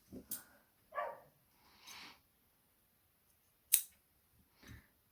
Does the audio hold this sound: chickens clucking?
no